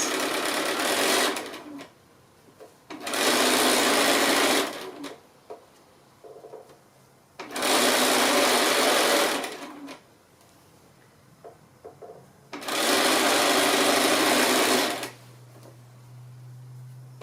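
A sewing machine runs along the seam of a small quilted drawstring bag made from 2 1/2-inch fabric squares, three steady stitching runs of about two seconds each separated by pauses with light handling, close and loud.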